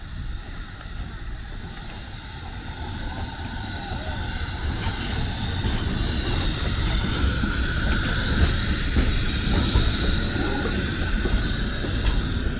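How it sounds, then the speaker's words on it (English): A train in Maramures, Romania rumbles closer, its engine droning and growing steadily louder, with a sustained mechanical hum and rattling over the whole stretch. "There is another train coming."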